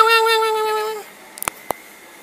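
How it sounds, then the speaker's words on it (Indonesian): A passing cat lets out one clear, near meow lasting about a second, followed by quiet with a couple of faint clicks. "Ada kucing nih lewat."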